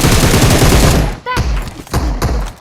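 Rapid automatic gunfire from PUBG Mobile is heard as a dense, loud burst of shots, followed by several separate sharp reports after a short pause.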